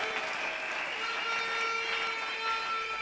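Church congregation applauding for Jesus, a sustained, even wash of clapping from many hands, steady and moderately loud with faint tonal sounds underneath.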